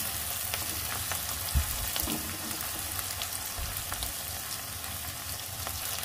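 Onions and grated ginger sizzle softly in a pan, a quiet even frying hiss with a few faint clicks, no voices.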